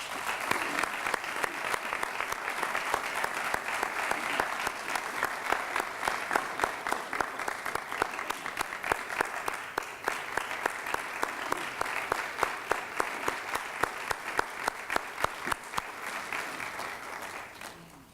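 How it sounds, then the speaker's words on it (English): An audience at a university hall of fame ceremony for distinguished educators gives a sustained round of applause, steady rhythmic clapping from many hands heard at some distance, continuing evenly for a long stretch before trailing off. "Let's give them all another round of applause."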